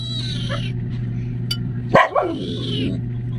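A pet dog gives a single sharp bark close by indoors, breaking through a steady background hum and fading tones.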